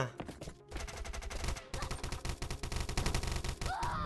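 Rapid automatic gunfire rattles in dense bursts in the Last Island of Survival video game, loud and close, with only a brief gap early on before the shooting resumes almost continuously.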